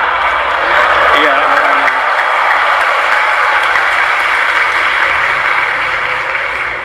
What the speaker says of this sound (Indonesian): Kenapa tepuk tangan ini?